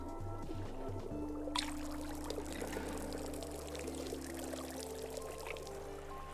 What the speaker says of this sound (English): pour any amount over it.